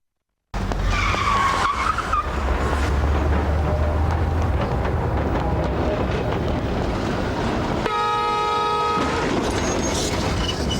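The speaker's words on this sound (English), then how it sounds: "Here is that infamous scene with the tram." A tram scene from a TV soap: a steady loud rumbling vehicle noise with rushing, skidding texture throughout, and a sharp tonal horn or bell blast near the end.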